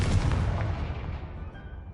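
A Confringo spell blast from Hogwarts Legacy booms out heavily at the start, then rumbles and fades over a couple of seconds, close and alone.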